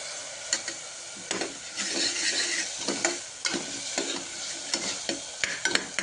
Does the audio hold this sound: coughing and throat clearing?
no